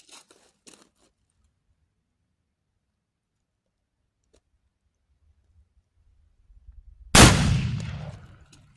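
A side-by-side muzzleloader shotgun loaded with 1.25 ounces of 00 buckshot fires one loud, sharp blast after a quiet stretch, its roar tailing off over about a second.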